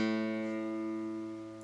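Two guitar strings tuned to the same note ring together as a steady, clean sustained tone that slowly decays, close and moderately quiet, with no wavering beat and no talking.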